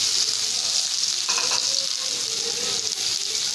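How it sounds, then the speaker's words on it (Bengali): Potatoes fry in a pan for a soybean dish, a steady close sizzle with a short burst of crackling near the middle. "আলু দিয়ে আমি আগে আলুগুলো ভাজি করছি"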